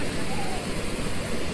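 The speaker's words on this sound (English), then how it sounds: "And I want to turn back to the waterfall real quick." A waterfall rushes steadily at a wildlife livestream site where bears fish for salmon, a dense, continuous broadband roar with no pauses, fairly loud and close throughout.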